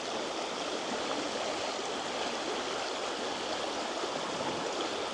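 Moving water from an outdoor stream rushes steadily and fairly close throughout, a constant broadband flow with no talking over it.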